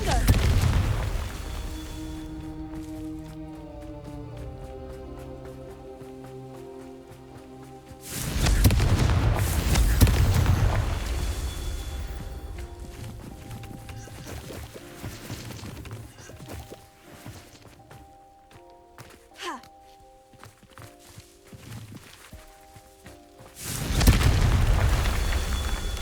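Fire spell blasts in Hogwarts Legacy land as loud booming explosions with roaring bursts, two big ones separated by quieter game ambience and footsteps, with a musical score underneath.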